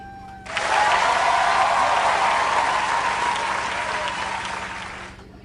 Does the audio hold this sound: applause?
yes